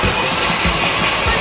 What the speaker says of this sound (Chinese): 现在这个发动机已经修好了，准备咱们做冷启动测试啊